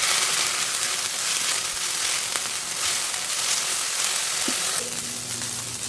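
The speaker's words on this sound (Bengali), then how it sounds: "এখন আমি পেঁয়াজ বাটা দিয়ে দিলাম। পেঁয়াজ বাটাও একটু ভালো করে ভাজি করে নিতে হবে।" Onion paste sizzles steadily in a pan, a dense continuous frying hiss that stays fairly even throughout, with a few faint clinks and no voices.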